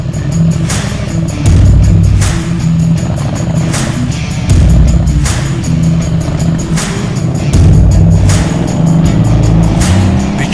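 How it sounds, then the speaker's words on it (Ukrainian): A Yamaha XMAX 300 scooter engine runs steadily and loudly close by on a mountain road, with rising and falling revs and rushing wind noise. "Ух, він їде! Я чую двигун."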